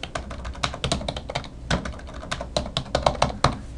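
Fingers type on a computer keyboard in a quick, uneven burst of close clicks that runs without pause and without any voice.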